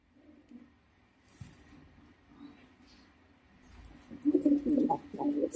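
Bombay pigeons cooing, soft low murmurs early on that swell into several loud, close, throaty coos toward the end, with faint rustling and background noise between.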